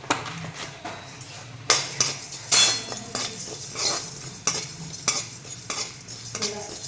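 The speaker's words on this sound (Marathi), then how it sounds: "धना, जिरा हे सगळं भाजून घेते" Coriander and cumin seeds, with cinnamon and black pepper, dry roasting in a pan for a mutton masala, a spoon scraping and clinking in steady strokes against the metal amid faint crackle.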